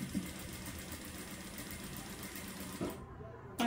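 A sewing machine stitches the neck of a blouse, running as a steady close mechanical whir that stops abruptly near the end, followed by a brief thump.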